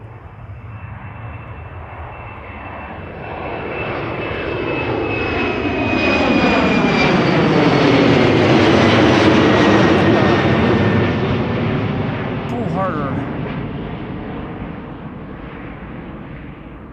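KLM Embraer 190 airliner on a Düsseldorf-bound departure at Amsterdam Schiphol, its engine roar swelling from a steady hum to a loud peak mid-pass, then gradually fading as it moves away.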